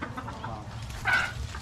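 A hen clucks once, briefly and softly, over low background rumble in a farmyard pen, a short single call near the middle of a quiet moment.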